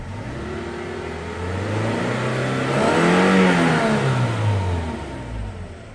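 A Toyota Hilux engine revs up, its drone climbing steadily to a peak and then easing back down, loud and close with no talk.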